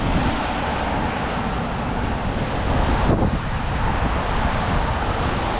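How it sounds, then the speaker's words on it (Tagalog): Strong wind on a rainy day in Canada rushes and buffets the microphone in a continuous loud roar, with no one talking over it. "Lakas ang hangin."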